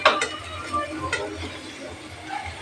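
Rice being stir-fried in a pan for homemade egg fried rice with masala, a steady scraping stir with soft sizzling and occasional clinks of the spatula against the pan, close and moderately quiet.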